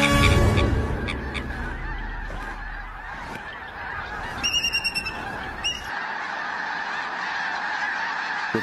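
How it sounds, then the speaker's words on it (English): Snow geese honking in a dense, noisy flock, with a few sharper calls standing out over the steady clamor. "With a fair wind blowing, the snow geese take their cue to leave."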